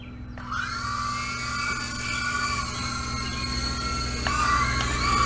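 A Syma S37 Raptor three-channel RC helicopter with a large gyro spins up for takeoff, its rotor and motor whine starting abruptly and holding steady and close, rising slightly in pitch near the end, with no talking.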